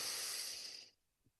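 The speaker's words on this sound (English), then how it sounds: "Breathing in at your own pace and exhaling." A slow, deep breath, heard as a single long airy exhale that is close and fairly faint and fades out after about a second.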